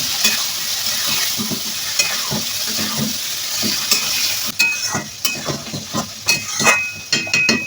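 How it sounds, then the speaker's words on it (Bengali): Boiled potatoes stirred into a frying masala in a pan: a steady sizzle with repeated scraping and stirring strokes, growing sharper and more clattery toward the end, close up with no voices. "এখন সিদ্ধ করে রাখা আলুগুলো আমি মশলার মধ্যে দিয়ে ভালো করে"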